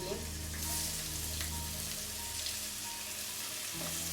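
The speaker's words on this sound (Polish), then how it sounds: "teraz y, zmniejszam ogień e, i smażę te nasze opanierowane małe polędwiczki" Dense, steady sizzle of small breaded pork tenderloins frying in hot oil in a wok, continuous and close, with faint background hum.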